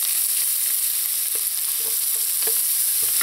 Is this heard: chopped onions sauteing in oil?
yes